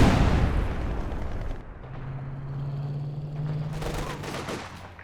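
Artillery shells from a barrage in the video game Company of Heroes 2 land with loud, overlapping booms and crackling blasts. The blasts thin out into a lower sustained hum and scattered distant impacts.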